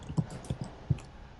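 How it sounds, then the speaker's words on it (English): Keys on a computer keyboard being typed, a few quiet, irregular clicks spread over a second and a half against faint background room noise. "Sorry for any pauses. That's me typing."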